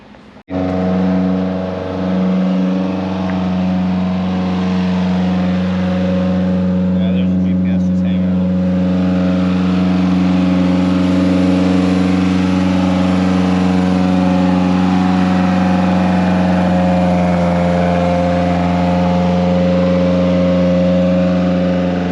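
A Toyota MR2 AW11 fitted with antilag runs steadily throughout, its engine giving a loud, sustained droning hum that swells slightly as it revs under way.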